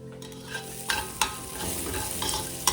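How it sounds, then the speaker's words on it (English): Onions caramelizing in a pan with garlic and hot red pepper flakes while soup is being made: a steady close sizzle broken by a few sharp knocks of a utensil stirring against the pan, with no talk. "you can see these lovely onions are getting nice and caramelized"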